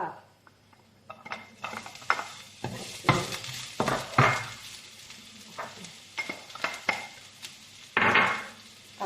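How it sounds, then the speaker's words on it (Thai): Garlic sizzles in a hot pan while a utensil stirs and scrapes, with frequent clinks and clatters against the metal up close. "กระทะร้อนแล้วค่ะพอเปิดไฟทิ้ง้สักพักนึงค่ะใส่กระเทียมเจียวลงไปค่ะ"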